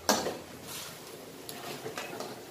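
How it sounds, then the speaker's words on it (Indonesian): Seasoning for Samyang green noodles is stirred in a pan, opening with a sharp utensil clank followed by soft, scattered scrapes and taps. The sounds are close but quiet, without speech. "bumbunya kita aduk"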